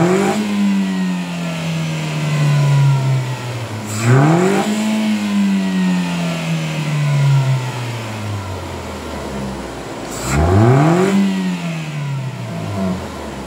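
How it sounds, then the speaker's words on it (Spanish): A Chevrolet Spark NG engine fitted with a newly installed high-flow air filter idles close by, then revs sharply twice, each rise climbing in pitch before dropping back to a steady idle. "con esto damos por terminada la instalación del filtro de alto flujo aquí en el Spark NG. Vamos a echarlo a andar a ver qué tal suena."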